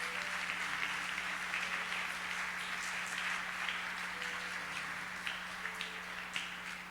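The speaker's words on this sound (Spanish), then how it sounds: "Denle un aplauso fuerte a Dios." A church congregation claps during a Spanish-language service, producing a steady, fairly quiet wash of hands that holds for several seconds and then thins slightly.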